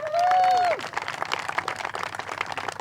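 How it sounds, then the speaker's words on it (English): Outdoor crowd at a soccer field opening applauds, a broad rush of clapping and cheering from many people, lively and sustained, with a brief whistle-like tone rising over it at the start. "let's give him an applause, Scott Overbay."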